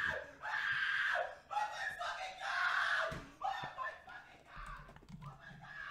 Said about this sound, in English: His scream is so high.